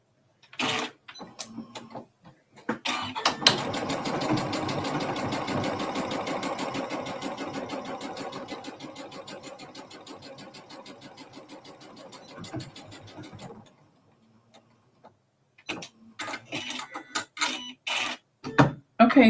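A domestic sewing machine runs steadily for about ten seconds while quilt blocks are stitched together, loud and close, with scattered clicks and handling noises before and after the run.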